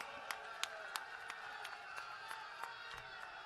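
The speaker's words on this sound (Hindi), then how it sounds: "आप ताली बजाओ।" A political rally crowd in Punjab murmurs at a distance, with a few sparse, scattered handclaps rising faintly above the low, steady hubbub.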